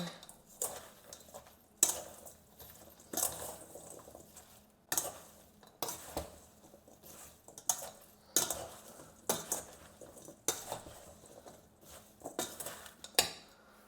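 A spoon stirs a thick rhubarb, sugar and kisiel mixture in a pot, scraping and knocking against the sides in repeated irregular strokes, close and fairly quiet.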